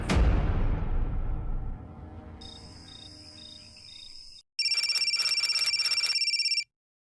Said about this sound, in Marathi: एवढ्या रात्री फोन का केला अंकुश?